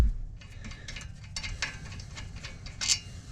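A ratchet wrench clicks in quick bursts while loosening a brake caliper bolt on a 2016 Honda Civic, with sharp metallic ratcheting pulses up close and a louder final burst near the end, no talking.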